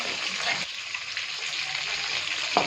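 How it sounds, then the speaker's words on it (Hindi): Masala fish fries in hot oil in a kadai, a loud dense crackling sizzle running steadily up close, with brief spattering bursts. "मछली देखो, मेरी मछली बिल्कुल फ्राई हो गई"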